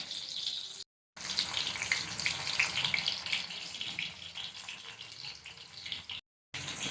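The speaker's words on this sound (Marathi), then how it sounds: "आता त्यामध्ये आपण हे कारलं सोडूया. असेच आपण बाकीचे कारले सोडून घेऊया तेलामध्ये." Stuffed bitter gourd (karela) frying in hot oil: steady, close crackling sizzle with bright popping, continuing without talk and broken by two brief silent gaps.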